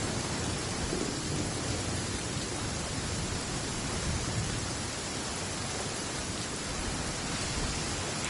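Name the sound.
thunder and lightning in the video game Genshin Impact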